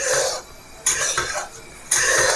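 Milk is stirred in a pan as it thickens into mawa khoya, with close, scraping strokes of a spoon against the metal that swell and fade in bursts over a soft bubbling hiss.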